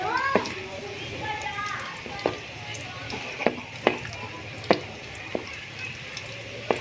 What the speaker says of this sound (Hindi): लहसुन में बड़े मज़े का तड़का लगता है सरसों के साग को।